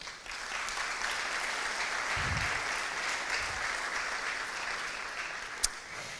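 An audience in a conference hall applauds Réunion firefighters at a regional natural-risks meeting on Réunion island. The clapping is steady but fairly distant and soft, with a couple of low thumps and one sharp click.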